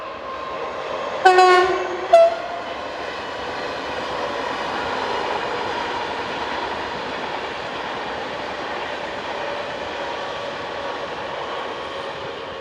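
A multi-voltage TGV high-speed train on a Paris to Milano service sounds a short two-tone horn early on, then rushes past with a steady, broad roar of wheels and air that holds at an even level to the end.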